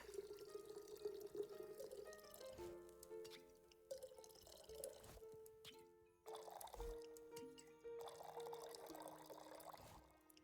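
Drinks poured in the tavern game Tavern Talk, a steady trickling liquid pour with dripping, broken by short pauses and several gentle pours that blend with soft game music.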